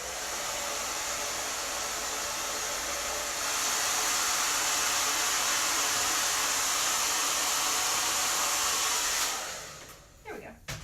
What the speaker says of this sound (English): we're going to dry them with the hairdryer a little bit more